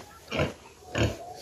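Pigs on a farm give two short, close grunting oinks about half a second apart over a steady background hum.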